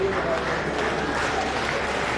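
Crowd at a community annual symposium in Tonkolili District, Sierra Leone, clapping in a steady, moderately loud spread of many hands, with some voices mixed into the noise.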